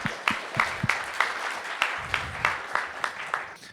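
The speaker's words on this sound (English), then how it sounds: "let's have a round of applause for Group 1 here" A conference audience at the FQXi 2014 meeting in Vieques gives a group a round of applause: a steady patter of close, sharp claps with brief louder hits, and no one speaking over it.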